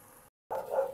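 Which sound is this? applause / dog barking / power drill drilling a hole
dog barking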